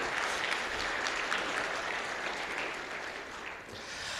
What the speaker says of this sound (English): let's give them a round of applause anyways